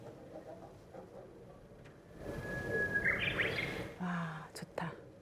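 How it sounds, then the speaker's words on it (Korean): Bright bird chirps and a whistled trill rise above an outdoor background with a low rumble, moderately close and fairly clear, on Naoshima island, Japan. "달콤한 새소리가 나요."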